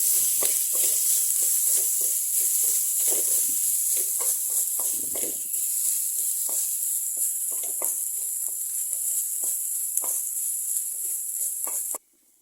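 Curry leaves and bitter gourd for a Kerala-style thoran sizzle steadily in a hot pan with salt, a continuous close frying hiss broken by clicks and stirring scrapes, ending abruptly.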